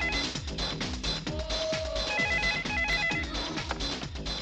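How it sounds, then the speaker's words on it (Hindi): A telephone rings in a 1990s Hindi film scene, its bell tone repeating in bursts over a busy background of music and ambient sound, fairly close and clear. "फोन।"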